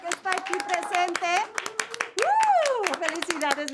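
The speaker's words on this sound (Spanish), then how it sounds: "Un fuerte aplauso público que está aquí presente." Studio audience applause on a Spanish-language TV show, crisp scattered claps heard beneath prominent voices, including a child's, that speak and exclaim over them.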